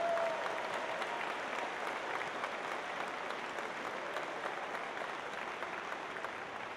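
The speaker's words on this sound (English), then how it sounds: "let's give our students a round of applause." Sustained applause from parents, mentors and other adults in a large venue for students at a FIRST robotics district event's opening ceremonies, an even, dense roar of clapping that holds steady from start to finish.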